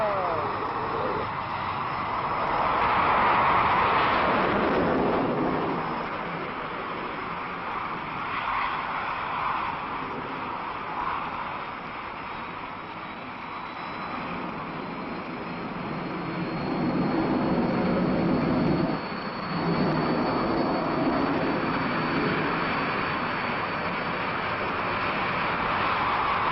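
A jet lands on the French aircraft carrier Clemenceau and catches the arrestor wire, heard as a loud roaring rush of engine noise that swells, dips and rises again. A voice speaks over the roar.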